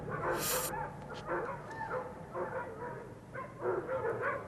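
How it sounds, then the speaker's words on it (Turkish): Dogs bark and yip repeatedly in short bursts, some whimpering, at moderate distance with no talking. "Köpekler bu gece huysuz."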